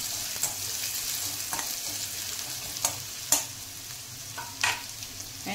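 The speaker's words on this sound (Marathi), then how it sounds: "कांदा घालायचा, चांगलं भाजून घ्यायचा कांदा" Onion fries in a pan for a green moong usal, a close sizzling hiss broken by a few sharp spoon scrapes and stirs, with no speech.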